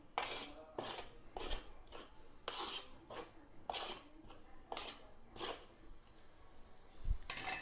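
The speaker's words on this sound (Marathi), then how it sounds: "चमच्याच्या सहाय्याने पहिले मिक्स करून घ्यायचे आपल्याला।" A spoon mixes rice flour and hot water in a bowl, making close, rhythmic scraping strokes about once every half to one second, ending with a dull knock.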